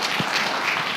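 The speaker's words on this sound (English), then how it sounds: "Let's give them a big round of applause for that great conversation." Audience applause after a panel conversation at a community summit, a brief wash of clapping filling the whole moment, steady and moderately loud with no voices over it.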